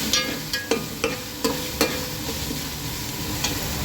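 Spice mix frying with browned onions in a pan for spiced bhindi, a steady loud sizzle with several scraping stirs of a spoon early on, close up and with no speech.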